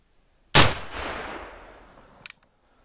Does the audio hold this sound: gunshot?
yes